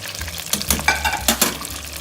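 Thick pieces of beer-battered fish frying in hot oil, a close crackling sizzle with occasional utensil scrapes and clinks against the pan.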